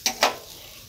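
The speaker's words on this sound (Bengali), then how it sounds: "এই ডিমগুলো দিয়ে একটু নাড়াচাড়া করে নামিয়ে নেব" Eggs frying in a pan are stirred twice in quick succession, two close, sharp scrapes followed by a faint, steady sizzle.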